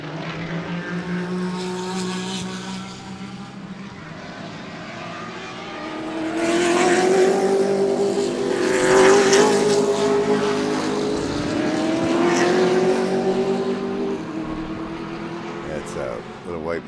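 Race cars, among them a small white Mustang and a big Grand National, roar past one after another at Sebring during a GT race, engine notes rising loud in the middle and fading, with distant crowd and track noise.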